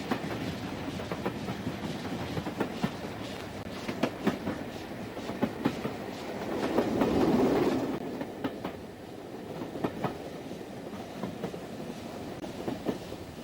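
A steam locomotive charging along rails through the English countryside, heard as a continuous rolling rumble with rhythmic clickety-clack wheel beats and a brief swell of noise midway, steady and fairly close throughout.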